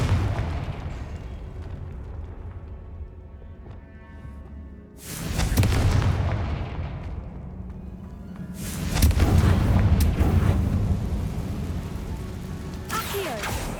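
A Confringo fire-blast spell in the Hogwarts Legacy video game erupts as a loud broadband burst near 5 s and again near 9 s, each one swelling and then rumbling away over a low background hum.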